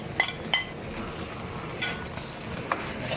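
Chicken, pineapple and spring onion are stir-fried in a pan, a soft sizzle behind a few scattered utensil scrapes and clinks, fairly quiet and without speech.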